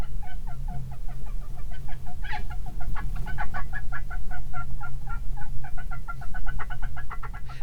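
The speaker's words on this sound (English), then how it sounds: "So this is a rat noise dropped, slowed down quite a bit to be within our range of hearing." A rat's vocalisation recording slowed down into the audible range, heard as a continuous stream of rapid, clucking, gobble-like chirps over a low rumbling background, fairly loud and close throughout.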